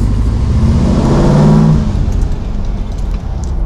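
A restored 1957 Chevy 210 station wagon with a swapped-in Corvette engine and bigger injectors revs up loudly close by, then settles back into a rough, throaty idle.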